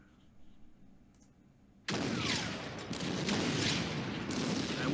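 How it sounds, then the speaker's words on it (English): Artillery fire in the World War II strategy game Order of Battle Panzerkrieg begins abruptly as a dense, sustained rumbling barrage of overlapping booms that keeps building after a quiet start. "Artillery, absolutely."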